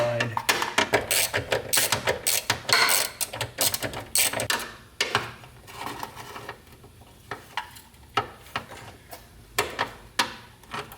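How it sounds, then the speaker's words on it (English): A ratchet with a 1/4 inch wobble extension works on Subaru bolts, giving bursts of rapid clicking and ratcheting with metallic clatter in quick irregular runs, close and fairly loud. "All right, 1/4 inch with a wobble, way to go, for sure."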